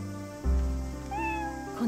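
A kitten in the World End Syndrome video game gives a meow, then a second longer, rising meow near the end, heard close and clear over soft background music.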